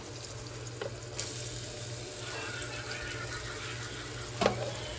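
Onion frying in a pan for dal fry, a soft steady sizzle that runs throughout, broken by a couple of brief clinks of a utensil, with no talking.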